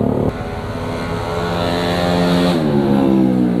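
Yamaha YZ 250FX supermoto motorcycle engine running nearby, a steady harmonic drone that rises in pitch as the throttle opens, loud and alone without speech.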